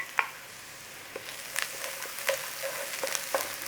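Garlic sizzles softly in a hot pan, a quiet steady crackle broken by faint clicks and taps of utensils, with no talk over it.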